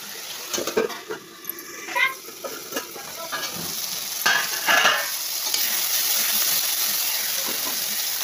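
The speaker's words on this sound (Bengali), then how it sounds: "হলুদ, লবণ, মশলা সব দিয়ে এবার কষাবো ভালো করে" Taro stolons sautéed with turmeric, salt and spices crackle in the pan while a utensil scrapes and stirs in uneven strokes, settling into a steady close sizzle toward the end.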